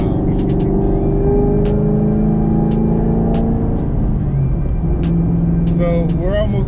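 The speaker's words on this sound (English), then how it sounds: "Man, you gotta love the way that Camaro sounds" A 2023 Chevrolet Camaro 1LE cruises on the road, its engine a loud, steady low rumble with a shift in pitch partway through, while someone talks over it.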